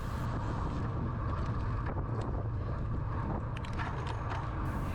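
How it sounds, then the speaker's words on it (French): A strong headwind buffets the microphone of a cyclist racing a time trial in Bonifacio, Corsica, producing a continuous, loud roaring rush with no talk. "Surtout que là, voilà, on se prend en vent de face."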